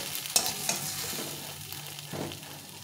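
Ingredients fried in a hot pan are stirred and scraped with a utensil, a soft sizzle running throughout with a few sharp clinks and scraping strokes, close and alone.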